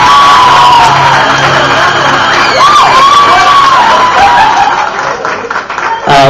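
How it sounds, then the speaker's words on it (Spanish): Graduates at a 2012 beauty academy graduation ceremony receive applause and cheering from a crowd, loud and sustained, with whoops and voices mixed into the clapping throughout. "Fuerte el aplauso para ellos."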